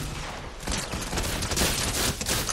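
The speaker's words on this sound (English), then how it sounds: "What the hell is that gun? It's a shotgun!" Shotgun fire in a video game comes as a rapid burst of overlapping blasts over a loud, chaotic din, with dense crackling shots piling up through the middle.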